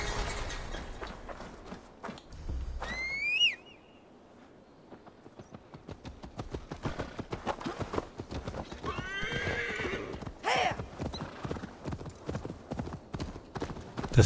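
In Assassin's Creed Valhalla a horse neighs loudly near the start, then its hooves clip-clop in a steady galloping rhythm with another whinny partway through, close and continuous over game ambience.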